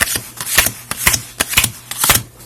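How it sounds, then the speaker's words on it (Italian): Playing cards dealt one at a time into three piles of five, quick papery snaps and slaps in an uneven rhythm, close and fairly loud, with no talking. "facciamo subito 3 mazzetti e poi li scegliamo. Mazzetti di 5 carte."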